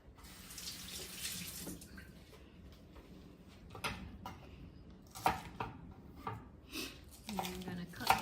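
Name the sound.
tap water running, washing thyme and hot pepper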